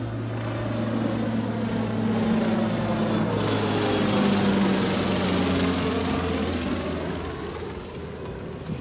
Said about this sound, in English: Check out the plane coming in.